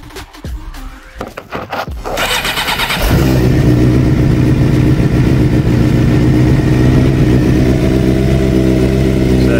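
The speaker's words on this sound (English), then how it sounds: "Let's get this bike started up." A Suzuki GSXR 600 motorcycle cranks with a few stuttering turns of the starter, catches, then settles into a loud, steady, close-up idle.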